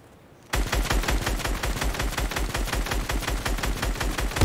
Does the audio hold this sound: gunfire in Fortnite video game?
yes